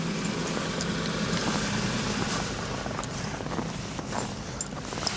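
A 2007 Honda Civic idling after a cold start on a winter morning, a steady low engine drone with a constant hiss, unchanging and close, with no voices.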